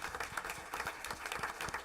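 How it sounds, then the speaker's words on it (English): A board meeting audience applauds, a faint, brief patter of clapping hands in a room. "So please give them another round of applause."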